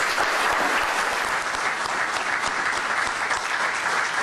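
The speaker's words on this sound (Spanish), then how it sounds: "la mejor forma de despedirnos es brindarle un fuerte aplauso" An audience gives a strong round of applause in tribute to a rally driver killed in a crash at the Caminos del Inca race, a dense, even wash of clapping that holds steady throughout.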